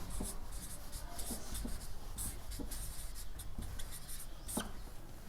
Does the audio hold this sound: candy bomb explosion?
no